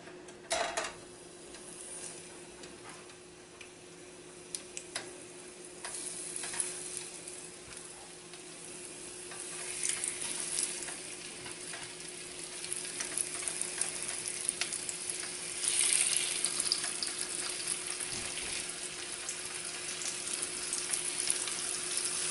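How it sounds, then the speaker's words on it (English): Rabbit meat browning in hot oil sizzles and crackles steadily in a pan, a continuous fry with occasional stirring scrapes and utensil clinks, growing slightly louder over time; no talking. "right now we're just going to wait for our oil to heat up and then we will start browning"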